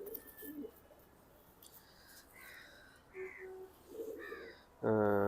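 A pedigree racing pigeon coos in short, throaty phrases spaced by pauses, close by against a quiet background, ending in a louder, fuller call.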